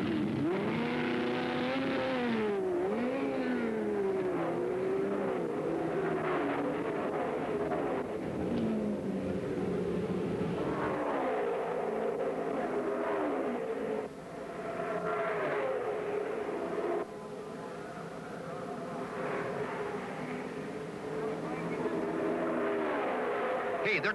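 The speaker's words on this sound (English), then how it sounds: "While Wally screams by, Foyt slowed up in the fourth turn and headed for the pits." 1974 USAC IndyCar race cars scream past on the Phoenix oval, engines rising and falling in long overlapping passes over a steady roar, with a commentator talking over them throughout.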